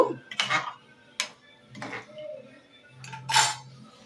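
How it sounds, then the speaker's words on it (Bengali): Prawn curry being stirred in a pan: a few scattered metallic scrapes and clinks of a utensil against the pan, close and sparse over a quiet background. "ভালো করে নাড়াচাড়া করে নেব"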